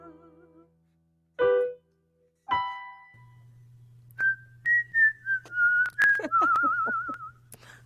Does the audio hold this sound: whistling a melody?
yes